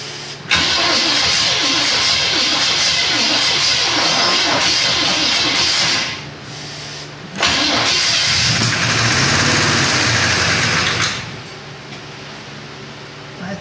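A 1957 Chevy wagon engine, freed from being stuck and now running with a suspected ticking lifter, roars loudly and steadily up close, eases off briefly near the middle, then surges again before dropping back to a lower idle.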